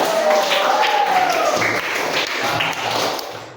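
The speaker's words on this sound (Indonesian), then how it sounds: "Kita beri aplaus untuk kita semuanya." A classroom group claps together in a sustained, dense round of applause during a lesson, loud and close, with a few brief vocal sounds rising above it.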